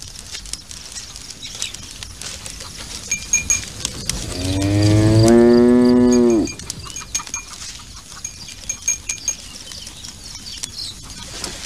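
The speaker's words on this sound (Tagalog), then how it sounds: "Bakit ka sinusundan ng kalabaw?" Out in the open, a water buffalo gives one long, loud, wavering moo of about two seconds, set against steady background rustle and patter.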